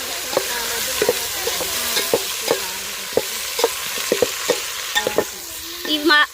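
Onions, green chillies and chopped vegetables fry for rice biryani under a steady sizzle, punctuated by rhythmic clicks and scrapes of a spatula stirring against the pan, close and fairly loud.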